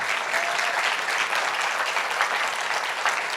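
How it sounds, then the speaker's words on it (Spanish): A church congregation applauds for Jesus during a Sunday message, a full, even roar of clapping from many hands that holds steady from start to finish. "damos un aplauso a Jesús por esto"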